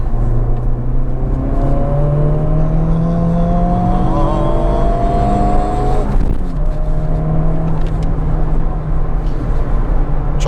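A Honda Civic Type R engine idles loudly, then the throttle is blipped repeatedly, revving up and dropping back, close and continuous throughout.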